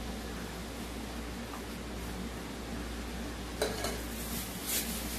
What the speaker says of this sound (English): I'm going to do some more stirring here.